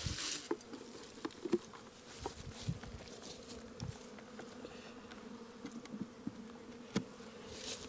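Honeybees buzz steadily around Cypress Creek hive boxes, a dense, close hum with individual bees zipping past the listener and faint tapping knocks scattered throughout.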